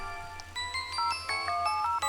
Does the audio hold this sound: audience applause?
no